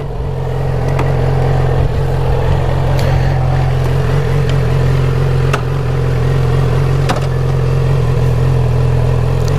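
A motorcycle engine idles and runs steadily close by, a loud constant low rumble with a few sharp clicks and clatters over it, before riding away.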